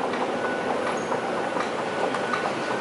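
Inside a moving Hong Kong MTR train, a steady, loud rumble of wheels and carriage noise runs the whole time with no voices.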